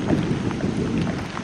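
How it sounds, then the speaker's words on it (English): Rain pours outdoors on a college campus, a dense, continuous rushing patter with a low rumble beneath, loud and close. "do y'all hear the rain?"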